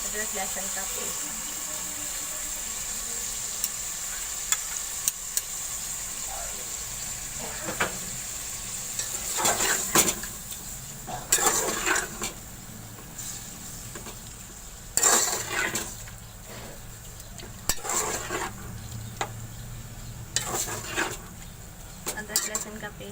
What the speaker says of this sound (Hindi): कीमा भूनने के लिए सबसे पहले मैं कीमा डाल दूँगी फ्राई करने के लिए